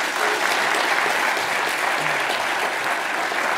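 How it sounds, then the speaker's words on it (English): A conference audience at a co-operative congress claps in a steady, dense round of applause that holds evenly for several seconds, moderately loud and without talk. "A huge round of applause, please."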